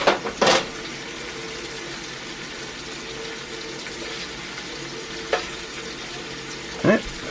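Butter sizzling as it is swirled in a hot frying pan for a steak grilled cheese, a steady close hiss with a few brief scraping clatters of the pan and utensil.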